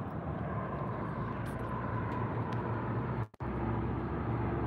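A small private propeller plane passes overhead outdoors, a steady low engine drone holding throughout with a brief dropout near the end.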